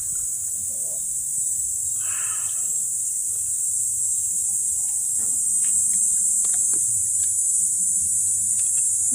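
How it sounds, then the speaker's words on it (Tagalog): A large cricket chirps steadily in a high, continuous band throughout, with faint ambient rustles and distant low sounds beneath, near a Toyota Corolla being worked on. "Laking kuliglig"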